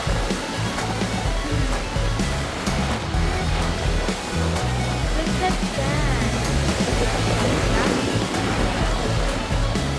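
Strong ocean surf breaking on a beach at Stradbroke Island, Australia, a loud steady wash of waves filling the whole stretch, with a person talking over it at times.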